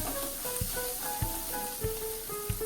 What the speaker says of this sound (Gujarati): ફરીથી બધું હલાવતા જઈએ એટલે કારેલા ઉપર નીચે થતા આવે